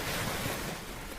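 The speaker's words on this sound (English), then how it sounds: "Waves go splash, splash." Ocean waves washing onto a sandy beach, a broad continuous rush of surf heard close and fairly loud, with some wind noise mixed in.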